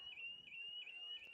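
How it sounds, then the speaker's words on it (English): A car alarm goes off near an outdoor university ultimate frisbee championship game, sounding as a steady high electronic tone that warbles at regular intervals, moderately distant and continuous. "someone's car alarm has just gone off there"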